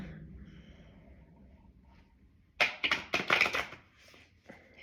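Tarot cards are shuffled quickly in the hands in a few crisp riffling bursts after a quiet stretch.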